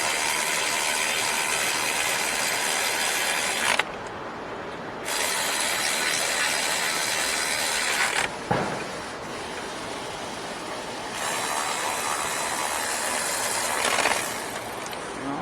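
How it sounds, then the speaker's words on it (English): A manual ratchet tightens alternator bolts on a Ford Fusion EcoBoost, giving a sustained, dense clicking rasp close by. The clicking breaks off briefly a few times, then resumes. "Take my manual ratchet here and snug it down a little more."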